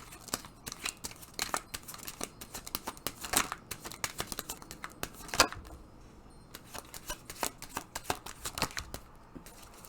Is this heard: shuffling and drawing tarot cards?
yes